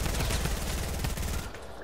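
Rapid, dense automatic drum gun fire from a video game rattles on continuously at close range and cuts off near the end.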